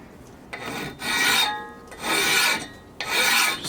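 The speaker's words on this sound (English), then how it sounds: "Just taking that surface rust, it's almost like I was resharpening it anyway, so stay nice and square." A hand file rasps along the blade of a homemade ice saw, scraping off surface rust in three long, even strokes, close and loud with short pauses between.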